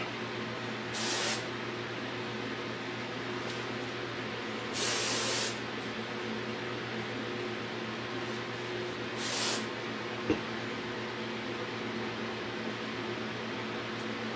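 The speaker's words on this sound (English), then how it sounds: "now we're going to take some hairspray" Three short hissing bursts from an aerosol can of hairspray, spaced several seconds apart, over a steady low mechanical hum.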